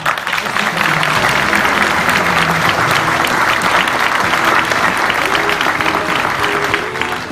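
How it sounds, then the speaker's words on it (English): An audience gives a loud, sustained round of applause after a speaker honours a man named Chuck, dense clapping continuing steadily with faint voices mixed in. "So I want to give Chuck a round of applause."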